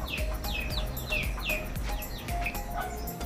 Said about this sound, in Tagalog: Ewan ko kung kaninong ibon yon